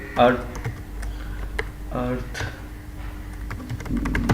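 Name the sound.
computer keyboard typing PHP code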